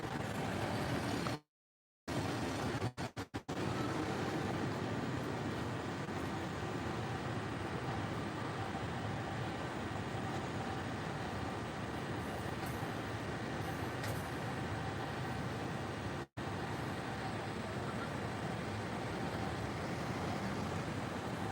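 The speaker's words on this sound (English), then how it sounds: "Like a bus roaring by." A bus roars past on a Tokyo street near Diver City, giving a long steady rumble of engine and road noise with a couple of abrupt dropouts, no voices over it.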